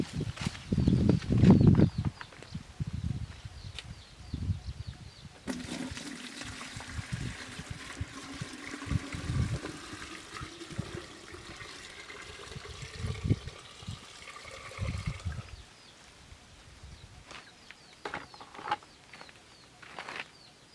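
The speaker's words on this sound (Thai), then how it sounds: "ก่อนอื่นก็ใส่น้ำลงไปในบัวรดน้ำก่อนนะครับ" Water gushes into a garden watering can for several seconds, the pitch of the filling stream climbing steadily as the can fills, then gives way to scattered drips and small splashes, with faint bird calls around it.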